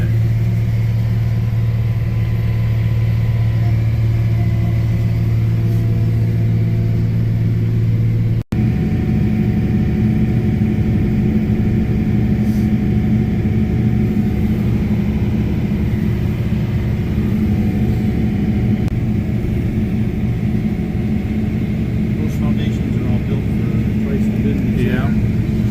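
Inside a farm vehicle cab on spray day, a steady engine drone and low rumble continue throughout, loud and close, with no talk.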